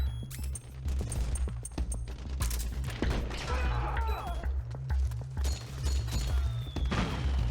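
Soldiers' gunfire in Metal Gear Solid 4 crackles in rapid bursts and sharp single shots over a deep rumbling bed, with impacts and crashes, loud and continuous across the scene amid shouting.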